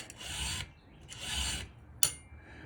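A file rasping across an Oregon chainsaw chain, two steady close strokes followed by a brief sharp click, quiet and with no talk.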